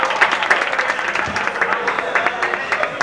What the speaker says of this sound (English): Okay, clap for them.